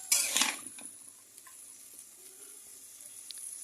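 Egg frying in a pan with onion, chilli and potato gives a soft, quiet sizzle, opened by a brief clatter of a utensil against the pan and followed by faint scattered taps.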